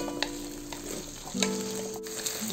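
Potatoes fry in a pan for a vegetable pulao, a soft continuous sizzle with a few brief stirring clicks and scrapes, fairly quiet and close.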